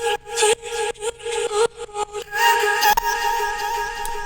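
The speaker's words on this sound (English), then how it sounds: "we'll go over the driving melody, which is actually just a vocal chop that sounds like this." A vocal chop from a Splice vocal pack: short, pitched vocal stabs in a choppy rhythm that give way to a longer, brighter sustained phrase, clear and upfront with no talking.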